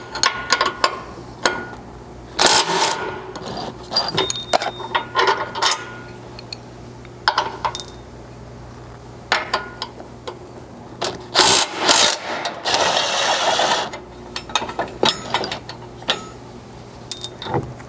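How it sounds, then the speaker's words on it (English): Ratcheting 18mm socket and wrench loosening tow hook bolts on a Chevy Colorado Z71 front end, a close series of clicking ratchet strokes and metallic clanks in irregular bursts. "From here, you can remove both tow hooks with an 18mm socket and wrench."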